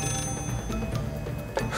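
A telephone rings from a tree trunk in the Tembo the Badass Elephant video game, its steady bell-like tone continuing over game music for a short moment.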